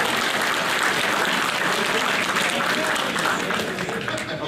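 Applause from a seminar audience after a talk at a magneto restoration event, a dense, steady wash of many hands clapping at moderate volume that tapers slightly at the end.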